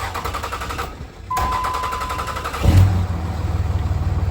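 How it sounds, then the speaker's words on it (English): A Cummins 5.9 diesel engine cranked by its starter, then firing and settling into a steady low, rhythmic idle that grows louder after start. "It's gonna bump the starter again. Let it run a few seconds and fire it up."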